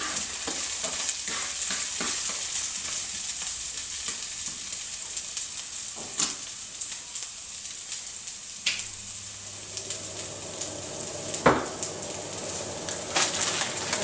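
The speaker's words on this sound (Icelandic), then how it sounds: "Paprikan fer í pönnuna fyrst að sjálfsögðu, búin að setja olíu og leyfi henni að steikjast örlítið" Paprika frying in oil in a pan, a steady soft sizzle running throughout with occasional clinks and stirring scrapes.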